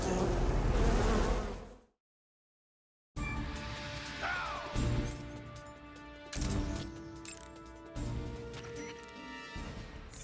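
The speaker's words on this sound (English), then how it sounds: "Snake, watch out for those bullet bees." Special hornets called bullet bees buzz in Metal Gear Solid Delta: Snake Eater, a sustained droning hum after a loud crash and a moment of silence, with occasional knocks and swells over the swarm.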